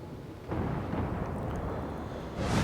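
Battleship guns boom in World of Warships, fired from a Tier 7 USN battleship Colorado. Deep, rumbling blasts land roughly two seconds apart, each with a long low roll and no voices.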